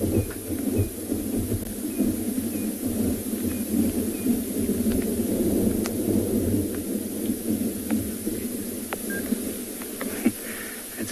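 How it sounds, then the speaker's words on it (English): Thunder rolls over the bush during an afternoon safari in South Africa, a low, continuous rumble that swells and fades for several seconds, heard without talk and mixed with faint outdoor noise. "just listen to that thunder."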